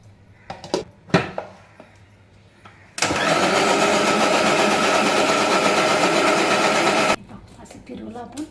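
A mixer grinder whirs steadily for about four seconds as it churns cream with a splash of cold water for homemade ghee, its loud motor starting and stopping abruptly, with quieter kitchen clatter before and after.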